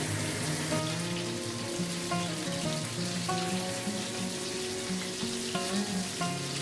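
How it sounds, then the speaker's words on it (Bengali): Boiled jackfruit pieces fry in hot oil in a kadai, giving a steady close sizzle and spatter throughout, with music playing over it. "এটাও হালকা লাল করে ভেজে নেব"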